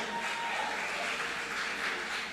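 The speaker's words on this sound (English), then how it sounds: "Let's just give ourselves a round of applause again" Audience at a junior calypso competition clapping in a dense, even wash of applause that holds steady at moderate volume for a couple of seconds, with no clear voices over it.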